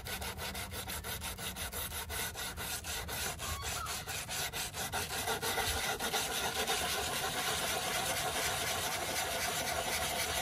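Close hand sanding of wood with sandpaper while building a sheep feeder: quick rhythmic scraping strokes at first, then a steadier continuous rasp.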